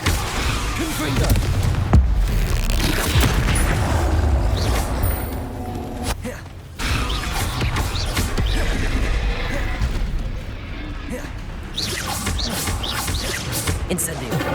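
Confringo blasting spell explosions from Hogwarts Legacy on PS5 roar through dense, continuous combat, with heavy booming crashes layered over one another and few pauses, dipping briefly near six seconds before the barrage resumes.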